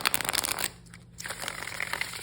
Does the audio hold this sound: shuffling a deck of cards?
yes